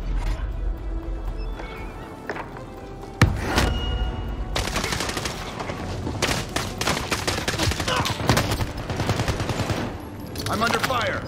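Rapid machine gun bursts crackle in Call of Duty Warzone on Rebirth Island, starting with one sharp shot and then long, dense volleys of near, loud gunfire that keep going in repeated bursts.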